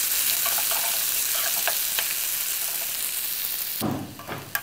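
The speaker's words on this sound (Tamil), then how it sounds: "இப்போது வெங்காயம் நல்ல பொன்னிறமாக வர வரைக்கும் வதக்குறோம்." Small sliced onions sautéing in a hot pan for poori masala, a loud continuous sizzle with a few light stirring taps, then a sudden shift as the pan is disturbed at the end.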